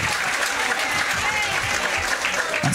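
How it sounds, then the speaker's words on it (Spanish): At a gathering on San Juan night in Chiloé, a crowd applauds Chilean teachers with loud, continuous clapping that fills the whole stretch, with no break. "le debemos fuerte aplauso a los profesores chilenos porque se lo merecen"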